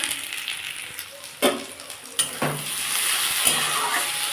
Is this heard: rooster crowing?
no